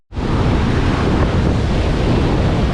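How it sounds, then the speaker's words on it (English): Big ocean waves break and wash continuously on Amed Beach, a loud, steady roar of surf with wind buffeting the microphone, close and unbroken throughout. "Today's situation here on Amed Beach is not different. It's absolutely the same. The waves are really big"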